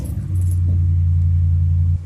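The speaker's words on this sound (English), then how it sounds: "he's leaving in his big truck right now" A big truck pulls away, its loud, steady low engine drone holding strong for nearly two seconds before cutting off, with a faint jingle near the start.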